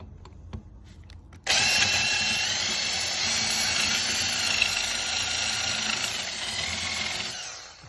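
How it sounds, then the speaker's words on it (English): A power drill countersinking a screw hole while fitting a window in a brick house whirs steadily and loudly for several seconds, starting abruptly after a few faint taps and cutting off at the end. "I'll countersink a hole here and down here"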